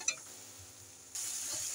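Spice paste with chili powder and a splash of water is stir-fried in a pan for a fish jhal. A light utensil clink comes first, then a loud, steady sizzle suddenly takes over.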